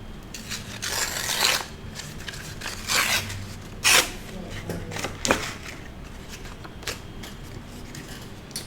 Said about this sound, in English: I'm gonna go ahead and sand these little areas here.